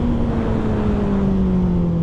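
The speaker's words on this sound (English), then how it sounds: "I let the exhaust scream for myself." A loud engine exhaust roars in a sustained, close drone, its pitch sagging slightly as the revs ease, with no voices over it.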